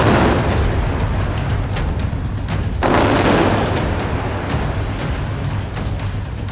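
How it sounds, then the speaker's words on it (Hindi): Deep booming explosions from the Israel–Gaza conflict rumble in the distance, one stronger burst standing out midway over a continuous low roar. "यहीं पर अभी अभी बड़े धमाकों की आवाज यहां पर आई है।"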